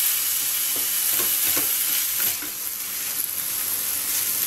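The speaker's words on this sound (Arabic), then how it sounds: "نخلطو مع بعض." Minced meat and onion mixture sizzles loudly in a pan while being stirred, a bright continuous hiss with soft scraping strokes near the start, no talking.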